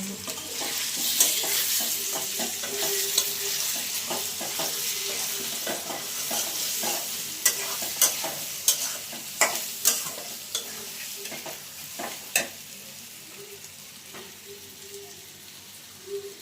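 Spice masala of turmeric, chili and cumin powder frying in a pan for a koi fish curry, a soft continuous sizzle broken by repeated scraping strokes of a spoon stirring, sharper clacks near the end.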